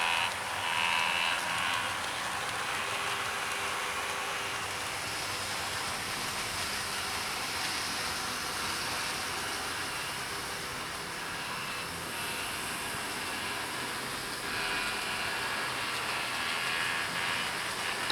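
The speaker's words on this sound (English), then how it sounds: "I do apologise for the flatulent noise coming out of that Derby Lightweight." Model Derby Lightweight diesel train running on a layout, giving off a steady, rough, flatulent motor buzz and hiss, fairly faint and continuous with no talking.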